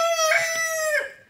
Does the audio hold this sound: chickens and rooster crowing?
yes